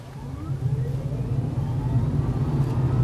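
Steady low road and tyre rumble inside a moving Vozilla car-share car, with a constant hum under it and no one speaking.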